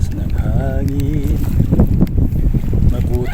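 Strong wind buffets the microphone at a fishing spot on Al Reem Island, Abu Dhabi, giving steady gusty roar near and loud, with a voice talking over it.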